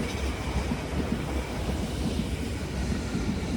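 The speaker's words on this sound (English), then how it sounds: "Here's a train coming just behind us," Metropolitan line London Underground train passing near Watford South Junction, a steady broad rumble with faint rail clatter that holds loud and close throughout without talk.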